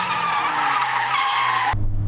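A car drifts with a loud, sustained tire squeal and skid that holds steady, then cuts off abruptly into a low engine rumble near the end.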